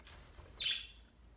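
A single short bird chirp from pet birds indoors, faint and heard alone against a quiet room background.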